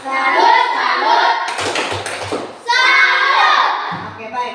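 Indonesian primary classroom, children clapping the rhythmic 'tepuk salut' cheer together, quick hand taps and claps mixed with loud chanting children's voices, a brief pause then another burst of group chanting and clapping.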